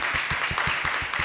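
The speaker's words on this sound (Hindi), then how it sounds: "जोरदार तालियां खुदा के लिए" Rhythmic group clapping at a church gathering, about eight evenly spaced beats in quick succession, steady and fairly loud with no voices over it.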